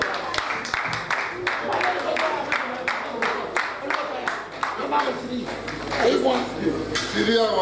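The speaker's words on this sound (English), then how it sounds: "A round of applause for" Dinner guests at a reunion clapping for the team, a scattered burst of individual hand claps mixed with clinking dishes and voices talking over it.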